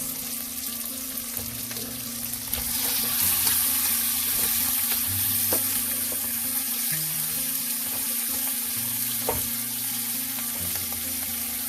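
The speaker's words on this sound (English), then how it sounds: "After cutting, I have rinsed it with water." Cut vegetables, including carrot and canned mushrooms for fried bee hoon, are rinsed under running water in a kitchen. A continuous close hiss of flowing water runs throughout, with occasional light knocks and clatters. No one speaks.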